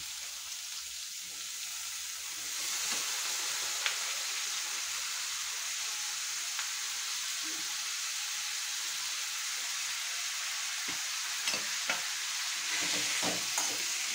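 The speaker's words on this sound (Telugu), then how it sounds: "ఇప్పుడు మనం ఏం చేద్దామంటే కొద్దిగా దోసకాయలను టమాటా ఫ్రై చేసుకుందాం." Cucumber and tomato pieces lightly frying in a pan give a steady soft sizzle throughout, with occasional clicks and scrapes of stirring near the end.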